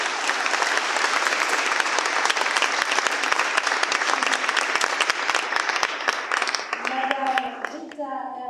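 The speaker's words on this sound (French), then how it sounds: "Je vous remercie de l'applaudir." An audience at a French public assembly on secularism claps steadily in a dense, sustained round of applause that fades toward the end as a voice begins speaking.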